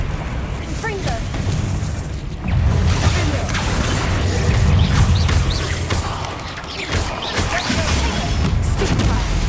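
Confringo spell explosions in Hogwarts Legacy, a series of loud rumbling bursts and booms mixed with combat clatter, dense and close, with a voice speaking over parts of it.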